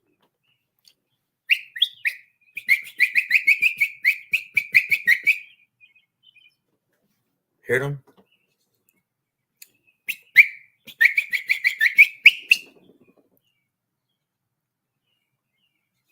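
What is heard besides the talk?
wild birds singing and answering back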